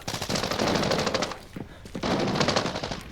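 Rapid bursts of automatic gunfire from the video game Arena Breakout Infinite, loud and dense, with a brief lull in the middle before the firing resumes.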